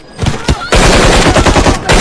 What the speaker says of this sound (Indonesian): Suara tembakan itu membuat para pengunjung ketakutan dan segera berlari mencari tempat aman